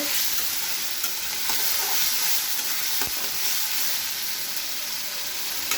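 Cumin and ginger paste frying in a hot pan for an egg dish, a loud, constant close sizzle and hiss with occasional stirring clicks, no talking.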